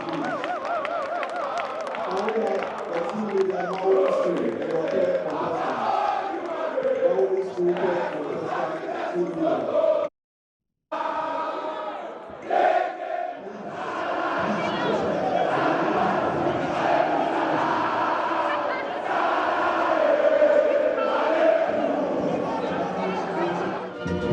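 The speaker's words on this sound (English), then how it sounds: "let's give all 3 schools a round of applause" A large school audience at the 2018 National Science and Maths Quiz contest claps and cheers for the three competing schools, St. Peter's SHS, Mawuli School and Keta SHTS, in a dense, sustained roar with a brief silent cut midway.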